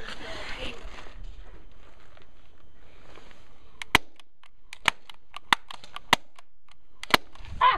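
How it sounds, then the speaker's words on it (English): An airsoft pistol fires during an outdoor skirmish around buildings: five sharp, isolated snapping shots spaced about a second apart, following a stretch of muffled voices and rustling. "he's shooting at me!"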